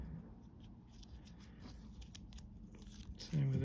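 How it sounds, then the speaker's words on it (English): Material is crumpled by hand to make miniature bread for a miniature apartment build, giving quiet, close, scattered crinkling and crunching under a low background hum. "We just need to crumple it up."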